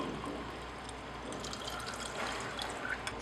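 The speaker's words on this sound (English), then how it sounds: "Add 50 ml of ether to the solid obtained." Roughly 50 ml of diethyl ether is poured onto a solid in a lab synthesis of mandelic acid. The liquid gives a faint, steady trickle and splash that lasts about three seconds.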